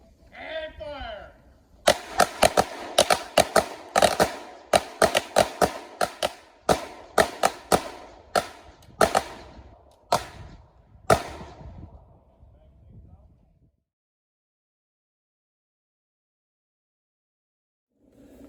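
Gunshots fire at an outdoor shooting range, a burst of many sharp, loud cracks from several shooters at once, some closely bunched and others spaced out, tapering off into silence after about twelve seconds.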